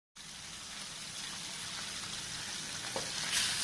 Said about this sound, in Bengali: পার্শে মাছ এগুলো আমি এইভাবেই ভেজে নেব।